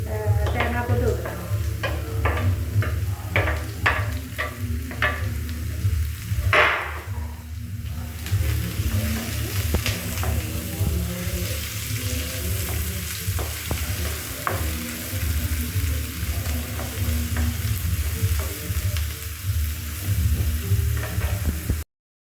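Green chillies and coconut pieces frying in a pan, with a steady loud sizzle throughout and repeated stirring scrapes and clinks, one louder burst of spitting partway through.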